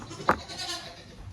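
A short goat bleat from a farm video game rings out once, near and fairly loud, against a quiet ambient background.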